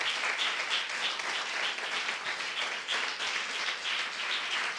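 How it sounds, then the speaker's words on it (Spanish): A church congregation claps together during a morning service, a steady, fairly soft wash of many hands with slight pulsing and little talk. "Denle un aplauso al Señor esta mañana"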